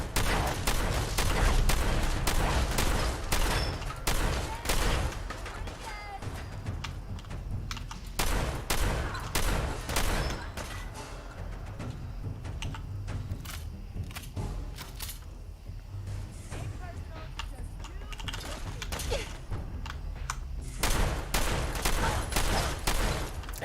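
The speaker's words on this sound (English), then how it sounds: "I keep shooting for the legs, hoping to cripple them." Rapid, sustained gunfire from shooting enemies in the Fallout 4 video game, with dense bursts of automatic shots and single cracks repeating loudly throughout, pausing briefly between volleys and carrying no talk.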